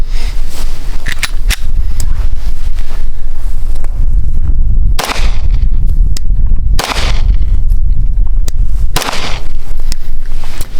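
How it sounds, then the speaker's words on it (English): Close-range gunshots from a Glock 34 pistol fired outdoors at a near target, several loud sharp reports spaced a couple of seconds apart over steady wind noise. "So I'm gonna shoot a couple close just to see where we're at, kind of get a rough adjustment."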